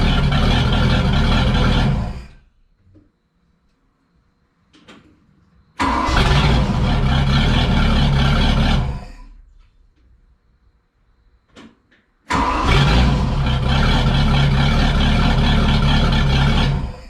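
A 1982 Cobalt boat engine is cranked and starts three times, each burst roaring loudly for about three seconds before cutting off, with quiet gaps and faint clicks between runs.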